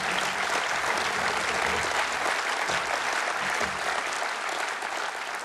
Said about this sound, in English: And it's right to applaud